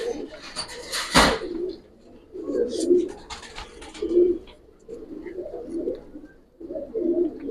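Giribaz pigeons in a loft give repeated rolling coos in several bursts, fairly close and clear, with a brief sharp knock near the start and no talk.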